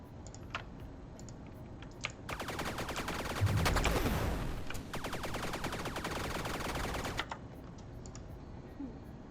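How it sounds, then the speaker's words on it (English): Tank turret explosion effects from a video game under development, a sustained burst of crackling, rapid-fire blasts with a loud boom near the middle, standing out sharply against faint clicking before and after. "I think probably the explosion sound could be louder."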